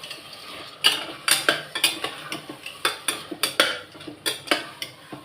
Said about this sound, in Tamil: அதனால் இப்போ இது நல்லா மிக்ஸ் பண்ணி வச்சுக்கணுமா